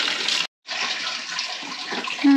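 Waste water from a motorhome drains through its waste pipes in a loud gushing rush, broken by a brief silent gap before the flow resumes, with a short tone at the end.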